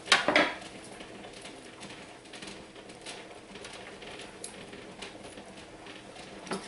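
Home-grown asparagus spears being peeled with a vegetable peeler, giving soft, faint scraping strokes in a quiet kitchen, with a slightly louder burst of clatter at the start and a couple of light knocks near the end.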